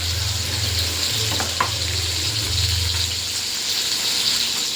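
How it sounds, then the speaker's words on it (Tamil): Potato stir-fry fries in oil in a pan, a steady close hiss and sizzle that holds throughout, with a low background hum and a faint clink or two, no talking. "உருளைக்கிழங்கு பொரியல் பாருங்கள், நல்லா உருளைக்கிழங்கு வெந்துட்டு வருது."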